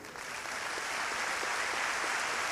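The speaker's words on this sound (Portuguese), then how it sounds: "Então dê um aplauso ao Senhor" A church congregation applauds at a youth service, a steady, even roar of many hands clapping together, fairly distant and unbroken throughout.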